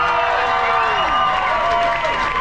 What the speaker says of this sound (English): Give our contestants a round of applause.